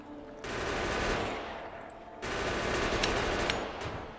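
Gun turrets in Factorio open fire in two long, steady bursts of rapid automatic shooting, loud and close, with a short break between the bursts and no voices.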